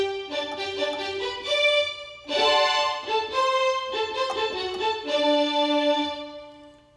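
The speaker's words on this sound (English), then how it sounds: "For example, we can sound like the string section of an orchestra," Sustained string-section tones from an electronic keyboard, swelling chords shifting every second or so, smooth and bowed-sounding, fading out at the end.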